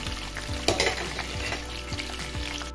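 Garlic sizzling in hot oil in a pan while being stirred, a steady close frying hiss with periodic scrapes of the spoon against the pan, no voices.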